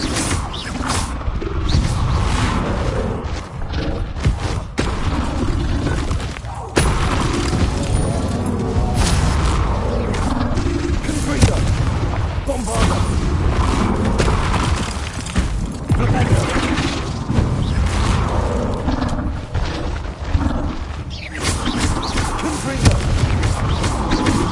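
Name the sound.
Confringo spell explosions, Hogwarts Legacy video game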